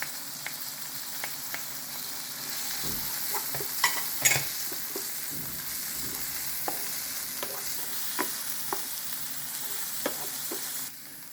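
Spicy pepper and three dried red hot peppers fry in a pan with a steady low sizzle, broken by occasional clicks and scrapes of stirring.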